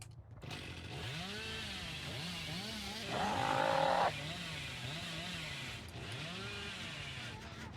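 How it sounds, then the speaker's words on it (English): A chainsaw revs continuously in a game as the character Billy uses it to move, the motor rising and falling in repeated sweeps with a louder, higher burst partway through, close and steady throughout. "You can't be afraid to just use your chainsaw for movement."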